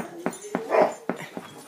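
Puppies whimpering and yipping close by, a series of short high cries with one longer whine in the middle.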